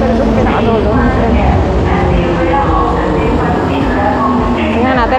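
Riding in the very last carriage of a moving train, a loud, steady rumble and rattle of wheels and car body fills the space, with a person talking over the constant noise.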